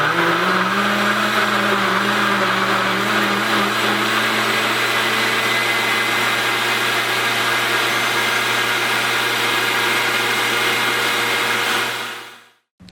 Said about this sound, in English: So we're gonna blend this all up into this blender right here.